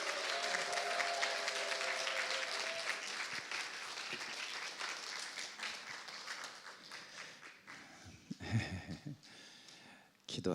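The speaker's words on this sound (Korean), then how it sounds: "우리 박수로 한번 환영했으면 좋겠습니다." Church congregation applauding to welcome a pastor at a leadership forum in Sydney, sustained clapping that starts full and slowly thins out, with some talk mixed in and a few scattered claps near the end.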